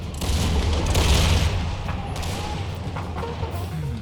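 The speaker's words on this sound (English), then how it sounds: "Cannon crews are now getting shot at." Massed musket volleys and battlefield gunfire from a multiplayer Empire: Total War battle of the War of the Spanish Succession, a dense rolling crackle with heavy booming low end, loudest early then steady.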